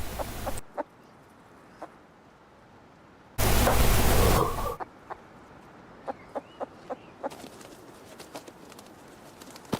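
Chicken clucking in the Rust video game, with sharp, scattered clucks and clicks around a loud, dense burst of noise in the middle, heard without any talking.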